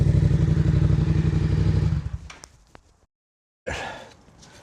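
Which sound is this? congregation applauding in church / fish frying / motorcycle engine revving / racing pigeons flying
motorcycle engine revving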